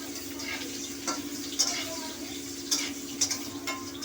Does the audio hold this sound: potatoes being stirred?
yes